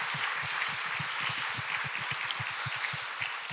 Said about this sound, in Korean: 1팀장들 우리 한번 박수하면 좋겠습니다